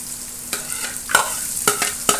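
Onions sautéing over low heat in a pan for a chicken curry, a steady soft sizzle broken by several sharp scrapes and clinks of a spoon stirring, close and fairly loud, with no talking.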